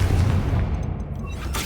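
A Bombarda explosive spell blasts in the Hogwarts Legacy video game, giving a heavy, low, rumbling boom that fills the short moment and slowly thins out.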